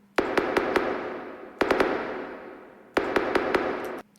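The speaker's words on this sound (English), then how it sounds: "I had this West Coast laser. You can hear it in a lot of West Coast beats, even Detroit beats." A West Coast laser sound effect in a drill beat fires three times, each a bright, loud zap with quick stuttering repeats that decays over about a second before the next.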